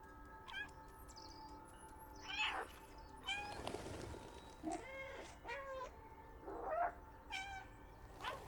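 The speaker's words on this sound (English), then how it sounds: "Ben's pressing a button. That's why he's meowing so much." A cat in the game Stray meows repeatedly at irregular intervals, some calls drawn out and wavering, heard close against a quiet tonal ambient backdrop without speech.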